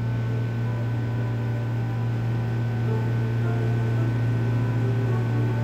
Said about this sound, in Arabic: فلاحظ أنه وراي مكيف صوته عالي ومزعج